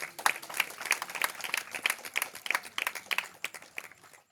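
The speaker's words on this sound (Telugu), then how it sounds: "వినటానికి మీకు ఇష్టం ఉంటే చప్పట్లు కొట్టండి" An audience at a religious sermon gathering in Khammam claps together in a steady, rhythmic beat, the crowd's applause fairly close and continuous before tapering off.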